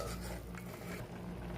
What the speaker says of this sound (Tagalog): na ilagay ko na kay pechay at tatakpan muna natin